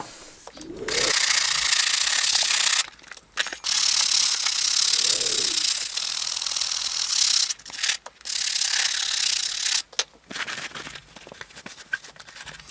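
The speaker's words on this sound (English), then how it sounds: "So I'm going to give it one more scrub around, see if we get that stuff out." Brushing a white sneaker's scuffed toe box with sneaker cleaner: loud, close, rhythmic scrubbing strokes in several bursts separated by short pauses and faint handling clunks.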